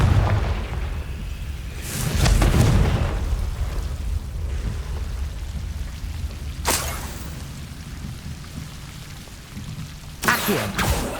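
The Confringo fire spell in Hogwarts Legacy goes off as several booming blasts, a broad burst near the start and sharp cracks later, loud against a rumbling background.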